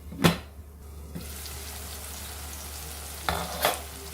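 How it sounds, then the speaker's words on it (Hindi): Masala and tomatoes for dal tadka fry in a pan with a steady, soft sizzle, broken by a couple of brief stirring scrapes near the start and end. "इसे अच्छे से हम मसाले को भूनेंगे जब तक कि हमारा टमाटर भी अच्छे से एकदम सॉफ्ट ना हो जाए"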